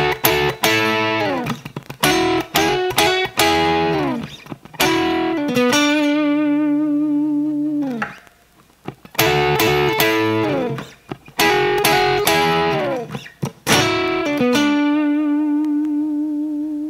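A distorted electric guitar plays a series of melodic licks mixed with chord strums, with punchy rhythmic phrases and ringing sustained chords that fade, all played continuously and up close.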